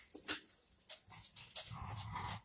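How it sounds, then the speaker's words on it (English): Several dogs in a room whimper and yip in short, high-pitched bursts, with soft low growls and panting between them, fairly quiet and close by. "I know, the dogs again."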